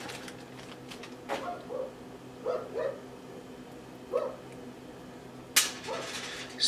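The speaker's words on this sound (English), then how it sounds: "Excuse the dog barking." A dog barks in several short, separate bursts from a little distance, with one sharper yelp near the end, over a quiet indoor background with no talking.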